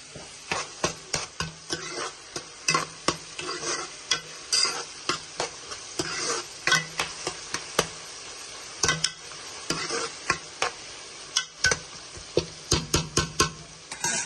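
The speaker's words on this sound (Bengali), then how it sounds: "মাশরুম মিক্স করবো" Mushrooms are stirred and mixed in a frying pan, with repeated scraping and tapping clicks of a utensil against the pan over a steady sizzle, close and alone with no talk.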